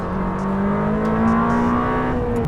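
Lamborghini Temerario engine pulling hard out of a corner, a loud, close, continuous rising roar with steady harmonic whine climbing in pitch over about two and a half seconds, no voices.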